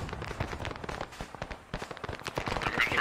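Gunfire in the game ArmA 3 crackles as dense, rapid overlapping shots, loud and close, continuing without a break for a few seconds.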